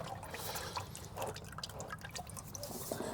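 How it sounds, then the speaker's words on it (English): Engine oil draining from a Massey Ferguson 35 Deluxe tractor, a steady close liquid trickle with scattered dripping, continuous with no talk. "and a lot more oil comes out"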